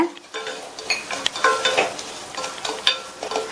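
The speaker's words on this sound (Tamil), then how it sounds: "மீதி இருக்கிற நெய்ல 1/4 கப் ரவையை சேர்த்து லோ ஃப்ளேம்லயே வச்சு இந்த ரவையை நல்லா வறுத்துக்கங்க" Semolina stirred and roasted in ghee over a low flame in a pan, with a steady scraping stir and soft sizzling, punctuated by light clinks of the spoon against the vessel.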